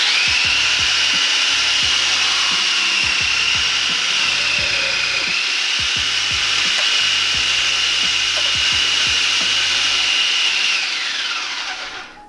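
A carrot is rubbed against a grater in steady back-and-forth strokes, shredded for coleslaw, a close, continuous rasping scrape with no talking.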